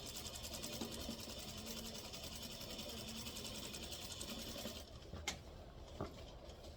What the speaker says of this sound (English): I'm going to sew over my pins.